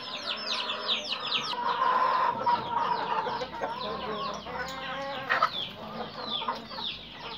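Several chickens, including Índio Gigante and naked-neck birds, cluck and squawk close by, with a rooster's calls mixed into the busy, overlapping chatter of the flock.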